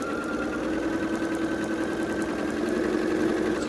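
A sewing machine stitches rows of a nine-patch quilt block together, running as a steady, even mechanical hum with a faint rapid patter for several seconds, close and uninterrupted, with no voices.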